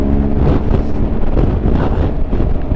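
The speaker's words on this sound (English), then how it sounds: "It's very windy." Strong wind buffeting the microphone of a rider on a BMW R 1250 GS Adventure motorcycle, a loud, continuous roar with no pauses.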